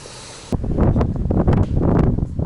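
A strong east wind gusts across a crucian carp fishing spot. It roars into the microphone with loud, buffeting rushes that start abruptly and keep surging.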